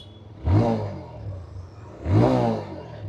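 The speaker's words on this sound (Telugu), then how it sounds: "ఒకసారి రెవ్ ఇస్తాను" TVS Raider ABS motorcycle engine revved twice in quick blips, each a rising, throaty exhaust burst that falls back to a steady idle, heard close up with no talking.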